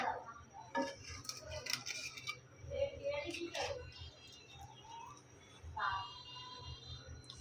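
A spoon scrapes and clinks against a pot while meat with oil and skin is sautéed and stirred for haleem, giving irregular close metallic ticks and knocks, with a voice heard at times.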